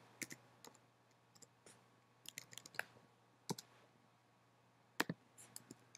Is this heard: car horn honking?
no